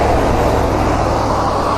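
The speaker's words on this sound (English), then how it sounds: "I'm waiting for this car to go by" A car rushes past a road cyclist waiting to turn, a loud, close, broadband road roar with wind noise that holds steady throughout.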